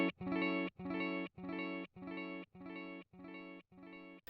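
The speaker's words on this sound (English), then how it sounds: "you can hear at the end of each repeat, the sound just cuts off because it's finished repeating" Guitar notes repeat through a Joyo R-07 Aquarius digital delay pedal, eight evenly spaced echoes of the same tone, each sustaining and then cutting off sharply into brief silence.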